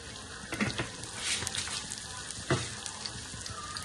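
Shallots and urad dal frying in hot oil for a jackfruit erissery, a steady close sizzle with a few louder crackles and bursts, no voices.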